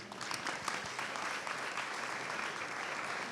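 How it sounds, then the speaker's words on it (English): An audience applauds an archaeology talk by David Wengrow with steady, dense clapping that stays even throughout. "we give another round of applause to David"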